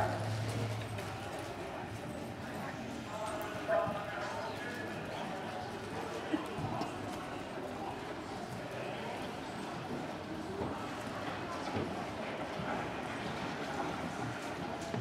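Rhythmic hoofbeats of a cantering Clydesdale horse thud steadily throughout a dressage demonstration, with a faint voice and outdoor background noise underneath.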